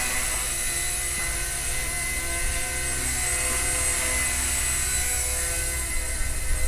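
A small Blade mCPX remote control helicopter hovering nearby, its rotor and motor producing a loud, steady whine and buzz that barely changes.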